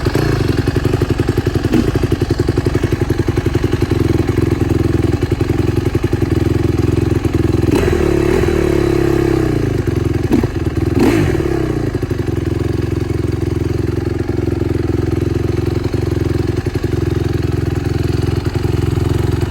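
A cold motorcycle engine runs without the choke, idling roughly and loudly up close with a steady throb, then gives a couple of brief throttle blips midway before settling back to idle.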